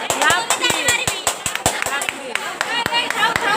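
Hand clapping at a science park in Digha, a rapid run of sharp, loud claps in an uneven rhythm, with people talking over them.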